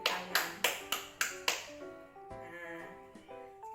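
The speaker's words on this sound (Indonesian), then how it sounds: "Nah, bagus sekali, tepuk tangan." Students in a classroom clapping for a group that has just presented, with six sharp, evenly spaced claps in unison, followed by a short run of soft chiming tones.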